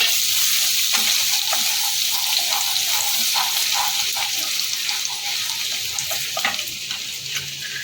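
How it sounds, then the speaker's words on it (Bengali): Chopped garlic and ginger stir-fried in hot oil for Chinese-style chilli prawn, a bright continuous sizzle with repeated scraping and clinking of a spatula, close and loud, slowly easing off. "আমি রসুন কুচি আর আদা কুচিটা আগে দেবো আদা রসুন কুচিটাকে একটুখানি নেড়ে নেব"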